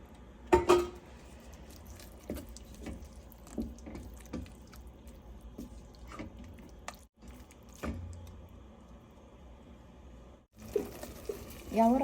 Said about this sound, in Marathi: यात आपण आता पाणी घालूया थोडंसं.